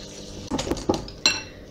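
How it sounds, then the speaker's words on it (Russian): Egg, sugar and a pinch of salt beaten together in a bowl for kefir apple fritter batter, a few close, sharp clinks and scrapes of utensil against the bowl, with no speech. "Одно яйцо разбиваем, добавляем сюда же сахар, щепоточку соли и все перетираем."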